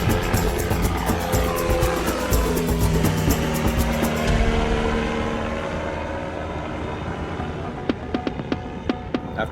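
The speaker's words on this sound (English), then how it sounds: "we're about to see one of Israel's best-selling drones take off" Heron TP drone from Israel Aerospace Industries takes off, its propeller engine droning loudly at first and then fading steadily into the distance, with a few sharp clicks near the end.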